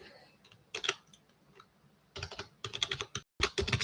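Typing on a computer keyboard during a live ANSYS simulation session, with bursts of quick key clicks separated by short pauses, close and fairly loud.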